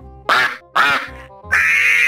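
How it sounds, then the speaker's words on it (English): Three loud, nasal duck quacks from a Garry's Mod soundboard, evenly spaced and close, each a buzzy honk with short quiet gaps between. "He's a duck."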